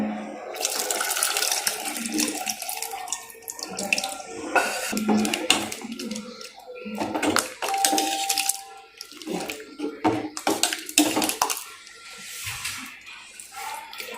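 Strained tamarind water is poured into a pot, with steady splashing and trickling for several seconds, broken by a few clinks and knocks.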